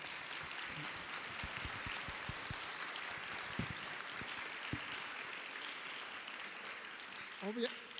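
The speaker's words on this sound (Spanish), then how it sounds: "un aplauso para el doctor" An audience at a community forum on addiction prevention gives a doctor scattered applause, with a handful of distinct claps at first that thin into a faint murmur before a voice briefly cuts in.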